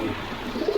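A large Gopalganj pigeon, a male, gives a short low coo near the microphone in a pigeon loft, brief and soft against faint background noise.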